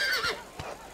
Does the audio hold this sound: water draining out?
no